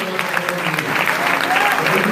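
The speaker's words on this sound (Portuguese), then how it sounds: "Aplauda" Church congregation clapping during worship, a short burst of dense applause with voices mixed in.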